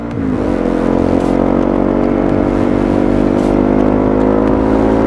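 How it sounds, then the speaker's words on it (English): A loud Honda CRF250L motorcycle with a custom exhaust and deep, throaty note revs up briefly, then holds a strong, steady drone close by, with no talking. "every bike should have a custom exhaust, and this bike is no different. That sounds great."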